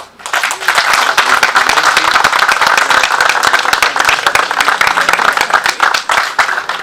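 Audience applause at the opening of a shop in Cormons: dense, steady clapping from a gathered crowd that swells after a brief start and carries on evenly for several seconds without speech.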